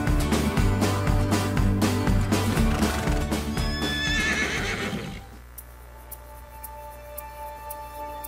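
Horse named Spirit in a video game, rhythmic galloping hoofbeats with a neigh, loud and close, then a sudden drop to quieter ambience after about five seconds.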